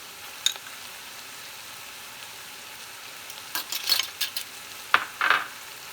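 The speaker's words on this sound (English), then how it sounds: "you're gonna add the cut green chili peppers I have" Cut green chili peppers sizzling in a pan on a quiet stove, a faint steady fry hiss with a few bright crackles and pops, then brief bursts of stirring and scraping toward the end.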